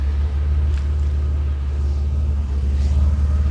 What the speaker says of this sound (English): And then fire her up. Still sounded to me like that was blowing.